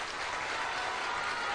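An audience at a press briefing applauds Hon. Korir with a brief burst of dense, steady clapping.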